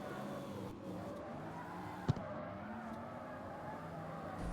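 A racing car's engine in a driving video game drones steadily under nitrous boost, its pitch rising and falling smoothly, with a sharp brief click midway.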